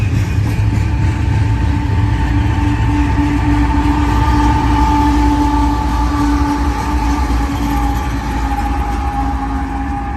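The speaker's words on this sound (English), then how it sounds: "This train stopped on me before." A BNSF intermodal stack container train rolls past at Ardent Mill, a loud steady rumble and grinding roar with sustained wheel squeal tones holding through the whole stretch, with no one talking.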